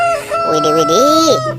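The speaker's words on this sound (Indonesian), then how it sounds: "ada ayam berkokok" A toy rooster gives a loud, close electronic cock-a-doodle-doo crow while a person talks excitedly over it.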